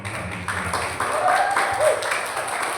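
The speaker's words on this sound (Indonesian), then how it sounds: "Sekali lagi beri tepuk tangan untuk penampilan peserta nomor urut tampil 11" Audience applause for a speech contestant at a school speech competition, a broad wash of clapping that swells and holds steady over a few seconds, fairly close and moderately loud.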